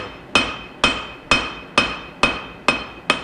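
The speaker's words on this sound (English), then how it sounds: "I really like the cross peen, and a reasonably heavy cross peen, for moving the material where I want it to be." A heavy cross peen hammer forges a wootz steel knife blade, striking seven sharp, evenly spaced metallic blows in a steady rhythm, close and ringing.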